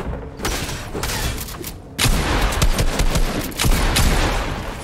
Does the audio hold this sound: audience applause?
no